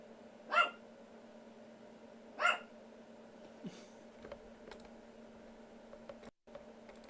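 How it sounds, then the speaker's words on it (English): Dog barking in the background indoors, two distinct barks a couple of seconds apart, then a faint yip, heard at moderate distance over a low steady hum. "I had a retarded dog barking in the background"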